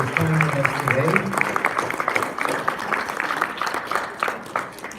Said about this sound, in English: let's once again give a round of applause to Scott